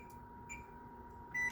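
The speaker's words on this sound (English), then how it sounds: "I'm gonna set my timer." Kitchen oven timer set while baking chocolate chip cookies, giving a short high electronic beep near the end over a steady appliance hum, with a faint earlier chirp.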